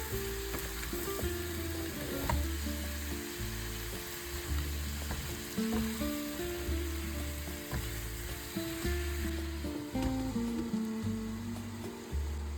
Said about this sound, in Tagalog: ilalagay na natin yung pumpkin